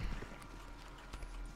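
Horse hooves clip-clop steadily through the Red Dead Redemption 2 game world, a continuous rhythmic trot heard close and moderately loud over a constant low ambient background, with no talk.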